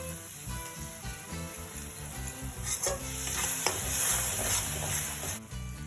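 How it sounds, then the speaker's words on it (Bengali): Tomato paste goes into ginger-garlic paste frying in a pan, giving a close, continuous sizzle that swells midway as it is stirred, over a faint steady background hum. "আদা রসুন বাটা একটু কষানোর পর দিয়ে দেবো আমি টমেটো বাটা"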